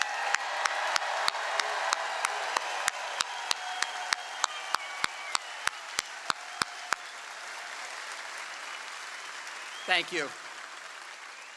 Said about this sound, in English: let's give them a roaring sound of applause